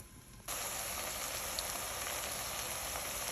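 Ridge gourd and milk curry cooks in a covered pan over low to medium flame, giving a steady, even sizzling hiss that starts abruptly and continues without pause.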